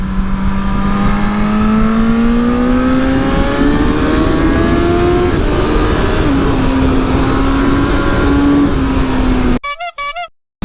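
A 2021 Suzuki GSX-S 1000 motorcycle at full throttle, its engine note climbing loud and close through the gears with a shift partway, then cutting off sharply at the end.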